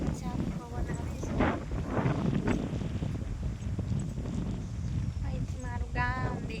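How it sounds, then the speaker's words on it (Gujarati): Cool wind sweeps across a village rooftop, buffeting the microphone in a steady low rumble that swells and eases for the whole stretch, with faint background sounds mixed in. "સરસ મજાનો પવન આવે છે."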